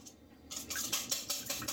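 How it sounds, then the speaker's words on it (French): A whisk beating quickly in a bowl while making coffee-style scones, with rapid rhythmic metallic strokes close by and no talking. "on va juste fouetter."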